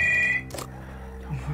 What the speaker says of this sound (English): Behind the door, phone starts to ring.